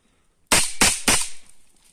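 Assault rifle fired during trench training, three sharp, loud, closely spaced shots in quick succession followed by a fading echo, with no talking.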